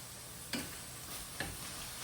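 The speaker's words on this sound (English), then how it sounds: "Let me stir my sausage around one more good time." Sausage is stirred as it fries in a pan, giving a steady soft sizzle with two brief clicks from the utensil scraping the pan, close and without voices.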